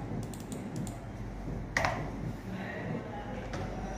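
Several quick keyboard taps on a computer keyboard while entering a phone-info website search, soft clicks scattered over a steady low background hum, with one slightly louder cluster midway.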